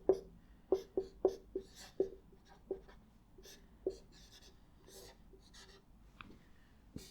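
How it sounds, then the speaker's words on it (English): Chalk or marker taps and scratches during a physics lecture on planar rotational motion: a quick run of sharp strokes early on, then sparser, softer writing sounds with a faint hum behind. "Let me write it out."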